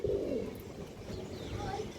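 A full-down-shape pigeon at a breeding farm coos in low, soft bursts, stronger at the start and again near the end, with faint ambient noise.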